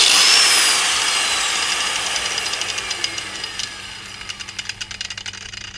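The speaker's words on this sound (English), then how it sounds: "just going to go ahead and use our good old Harbor Freight grinder here" A Harbor Freight paddle grinder winding down after running, its high motor whine sliding steadily lower in pitch and fading, ending in a soft rhythmic ticking as it coasts to a stop, close and alone.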